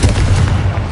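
A Confringo fire spell bursts in the Hogwarts Legacy game, a short, loud, booming blast with a dense low-end thump and crackling spread, heard alone.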